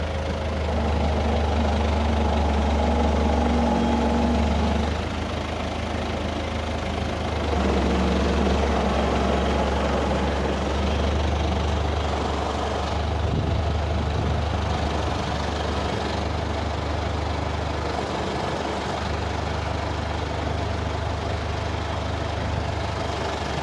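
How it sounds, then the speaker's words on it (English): A tractor engine runs steadily close by for the whole stretch, a deep low rumble with a slight knocking idle and a brief dip in load partway through, no voices over it. "Bring the tractor down and lift it up so we can get at that one up there."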